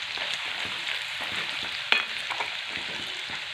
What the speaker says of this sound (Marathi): हे वाटण छान प्रकारे तेलामध्ये मिक्स करून घ्यायचं आणि छान परतून घ्यायचं